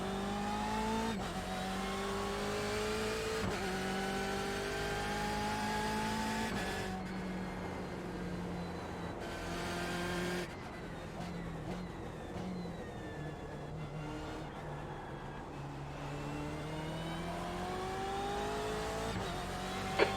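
The BMW M8 race car in a racing video game at Daytona howls through repeated rising revs and sharp gear shifts, its engine note climbing, dropping and climbing again, loud and close for the whole stretch.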